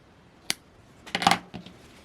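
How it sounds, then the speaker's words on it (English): Scissors snip the yarn end on knitted slippers: a single crisp metallic click, then a short cluster of quick snipping clicks and one softer final click, close and quiet with no talking. "I'm going to go ahead and snip it."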